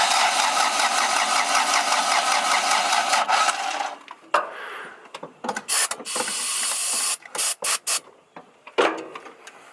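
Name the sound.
Toyota Corolla wagon engine cranking and starting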